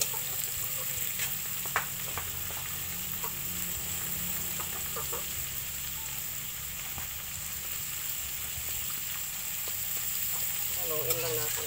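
Cabbage being stirred into pancit guisado frying in a pan, giving a steady low sizzle with scattered scraping stirs, and a rooster crowing faintly in the background.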